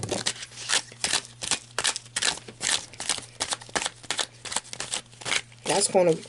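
Tarot cards shuffled and drawn by hand, a steady run of quick crisp riffling bursts close up, with faint background hum and a voice briefly at the end.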